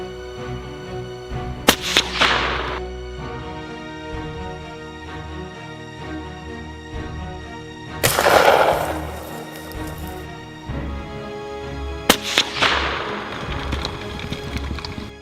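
Rifle shots during a red fox hunt on Australian farmland, three loud sharp reports spaced several seconds apart, each with a rolling echo tail, over an underlying musical backdrop.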